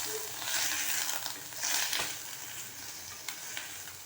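Mutton liver sautés in a pan with bay leaf and cinnamon, a soft steady sizzle broken by stirring scrapes and a few sharp clinks of a spoon against the pan.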